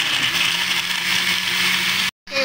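Blender grinding an Oreo milkshake with ice cream, a loud, steady motor whir up close that stops abruptly, then briefly restarts.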